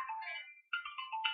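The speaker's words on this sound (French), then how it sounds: "excusez-moi pour le téléphone." A telephone ringtone plays close by as a short melodic electronic tune, two phrases separated by a brief gap, with no talk over it.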